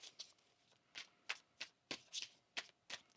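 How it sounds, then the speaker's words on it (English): Tarot cards being shuffled by hand, a quiet run of crisp riffling bursts in an uneven rhythm, about ten brief flurries close to the microphone with no talking. "One more shuffle here, please and thank you."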